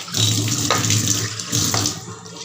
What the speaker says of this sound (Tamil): கொஞ்சமாக தண்ணியை ஊற்றி